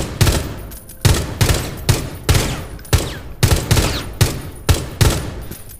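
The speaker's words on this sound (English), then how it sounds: "you also want to be very, very precise when you're doing this, whenever you start shooting, because you have to hit your shots" Rainbow Six Mobile gunfire rings out in sharp, evenly spaced loud shots, about a dozen single cracks with short decaying tails, close and alone with no talking.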